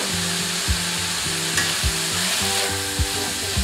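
Minced garlic sizzles loudly in a pan with onion, a constant close frying hiss broken by a few rhythmic thumps and scrapes of stirring, with no voices.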